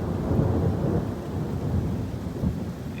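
Low rumbling thunder from a nearby lightning storm rolls on steadily for the whole stretch, deep and broad, with rain-like hiss mixed in and no voices.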